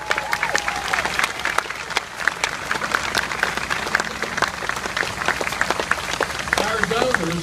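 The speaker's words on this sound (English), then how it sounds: "So a round of applause for North Carolina." Applause from a gathered audience at a homecoming press conference, many hands clapping steadily with sharp individual claps close by, a few brief voices and a low murmur underneath.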